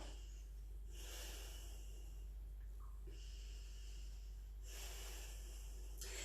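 Deep, audible breaths during a yoga twist, with long airy inhales and exhales in slow rhythm, close to the microphone and heard alone.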